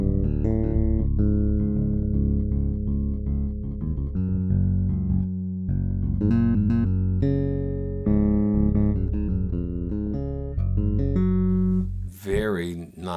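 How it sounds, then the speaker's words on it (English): Clean Rickenbacker-style electric bass patch from a HALion Sonic expansion with stereo pickups, playing a steady melodic line of sustained notes with a fat, bright tone and no talking. "a clean, like a Rickenbacker bass here"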